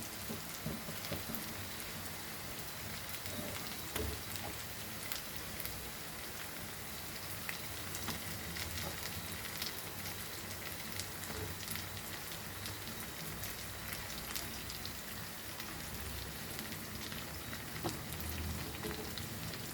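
Stuffed brinjals frying in oil in a pan over a medium flame, a steady, faint, rain-like sizzle and crackle running evenly throughout with occasional small pops.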